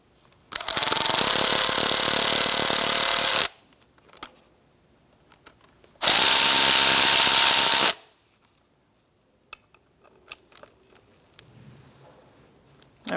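A power tool tightens bolts on the airbox of a 2012-2018 Ford Focus during a mass air flow sensor replacement: two loud, close bursts lasting about three and two seconds, followed by quiet scattered clicks and handling noises.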